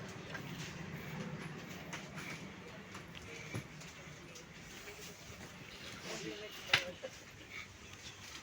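A train from Lucknow running on rails, a soft continuous rumble with faint rhythmic clicks and a small metallic clank near the end, heard from inside.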